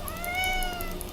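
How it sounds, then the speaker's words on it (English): A house cat gives a single drawn-out meow, fairly soft and close by, sliding in pitch with no talking over it. "That's my cat, Marco."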